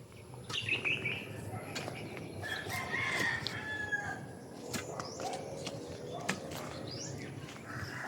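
A rooster crows a couple of times at middle distance on a rural plot, with small birds chirping and outdoor background noise around it.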